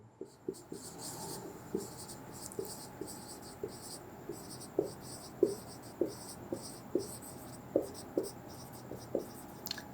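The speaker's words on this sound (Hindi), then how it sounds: "सबसे पहले हम लिखेंगे टोटल स्कोर ऑफ जैक" A pen or chalk writes a total score on paper or a board in a maths lesson, with quiet rhythmic scratches and taps recurring every second or so, faint against a soft background hum.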